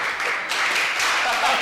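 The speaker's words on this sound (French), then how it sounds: "Allez, applaudissez-vous." Audience applause at an evening show, a steady dense wash of clapping that stays loud and fairly even from start to finish.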